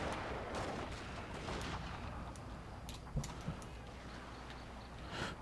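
Rifle volleys from Kitai troops in the Total War Shogun 2 Fall of the Samurai battle, a few sharp shots cracking over a dense, steady wash of distant battle noise.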